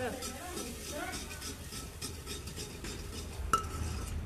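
A spoon stirs coriander and cumin powder masala in a pan, making soft scraping and clinking sounds with a faint sizzle and a sharp metallic tap near the end, under quiet background talk.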